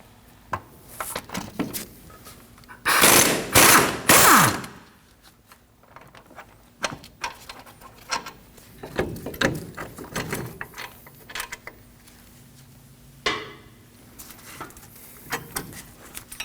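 Bolts on a Ford F-150 front brake caliper bracket are undone with a 21 mm socket, giving a close cluster of loud ratcheting clicks and metallic clatter, followed by scattered lighter tool knocks and handling noises.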